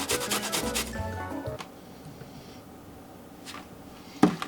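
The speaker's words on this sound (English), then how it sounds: "This is a shallot. I want to see if I can grate it." A shallot is rubbed against a grater in a quick series of close, scratchy strokes, followed by quieter scraping and a sharp knock near the end.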